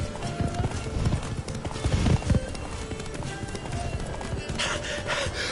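Roach, the horse in The Witcher 3, pounds along at a gallop, steady hoofbeats running throughout with a short whinny near the middle, loud and close over game ambience, with faint speech underneath.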